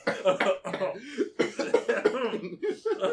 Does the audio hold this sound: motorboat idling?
no